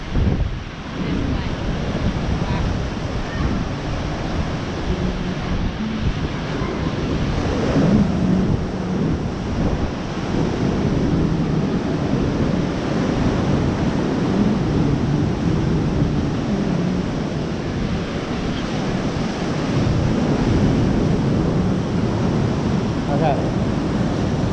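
Ocean waves surge at high tide inside Cathedral Cove in Coromandel, New Zealand, making a continuous loud rush with wind buffeting the microphone.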